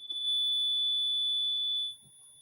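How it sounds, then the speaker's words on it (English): An alarm gives one steady, piercing electronic tone that holds for about two seconds and then cuts off, leaving a quiet room with faint background movement. "Turn your alarm off on that."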